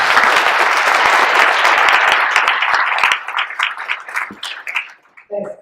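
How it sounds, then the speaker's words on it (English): An audience applauds to welcome a keynote speaker at a data science conference, loud sustained clapping that thins out and fades, with a brief voice at the very end. "Please welcome Lukas Biewald"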